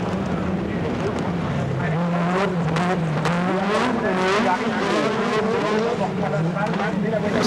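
A rally car driven by Kankkunen races around a circuit at high revs at the 1988 Race of Champions, its engine loud and sustained with the pitch rising and falling, while a commentator talks over it.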